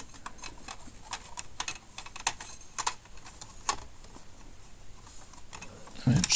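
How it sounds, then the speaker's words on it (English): Plastic keys of a Casio PT-87 keyboard are pressed back into place, a string of small sharp clicks and taps at an uneven pace, close up with no talk. "So let's get these keys back in first."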